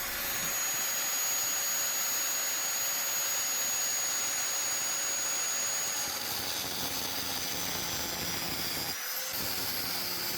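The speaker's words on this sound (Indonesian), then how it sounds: "Jadi ini kita tandain dulu menggunakan gerinda ya, dibuat garis gitu dulu." An angle grinder scores marking lines on a survival knife blade, a steady, loud high-pitched whine that runs continuously and shifts slightly in pitch near the end.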